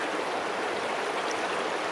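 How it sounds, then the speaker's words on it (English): Recently boiled water pours into an Aeropress coffee maker, a steady, close, airy trickling stream that holds even for about two seconds without speech. "Next trick is to pour the water in. It's recently boiled."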